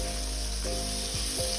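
Onions sizzle steadily in a cast iron pan over an outdoor rocket stove, a continuous close hiss with faint stirring scrapes and no talking.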